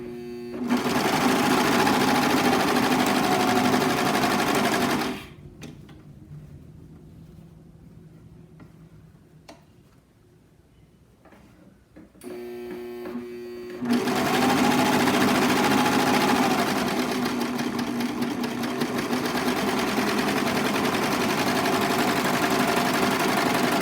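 A serger sews along the bottom edge of a fabric face mask, running loud and close in a long burst, pausing for several seconds of quieter handling, then starting up again and running steadily to the end.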